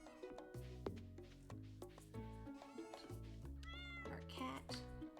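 A cat in Stardew Valley meows in a string of short, tonal mews at a quiet level, with a speaking voice and soft game music running alongside.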